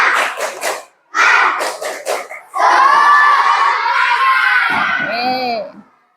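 A class of children performs a rhythmic spirit clap, bursts of hand claps in quick patterned groups, then joins in a loud sustained chanted shout together that fades out at the end.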